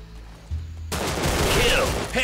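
Gunfire in the video game Line of Sight, a burst of rapid shots erupting after a quiet moment and continuing loud and dense to the end, with no talk over it.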